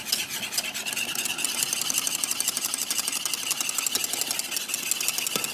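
Eggs and custard whisked in a pan, a rapid continuous rattling scrape of the whisk against the pan, steady and close with no pauses.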